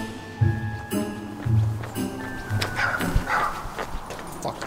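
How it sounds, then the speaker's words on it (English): Dogs bark in several short bursts, with a few loud nearby woofs and further yips amid shuffling movement and background noise. "dogs barking"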